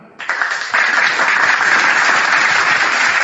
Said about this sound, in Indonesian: berarti harus tepuk tangan ini.